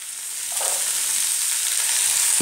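Spinach with chili and whole spices frying in a pan for palak sabji, a steady broadband sizzle that swells after the first half second with a few soft stirring scrapes near the end, no talking.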